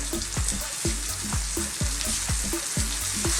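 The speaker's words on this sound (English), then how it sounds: "Let's work this into the onions, the garlic, the ginger, and all those lovely spices that we've got happening." About a pound of minced beef frying in a pan with onions, garlic, ginger and spices for keema curry, a loud continuous sizzle with regular spatula scrapes and stirring thumps roughly every half second.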